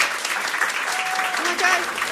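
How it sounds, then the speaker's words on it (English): Audience at a storytelling speakeasy night applauding a reader, a dense wash of clapping with voices calling and cheering over it. "Clap like your hands are on fire for Joe Smith!"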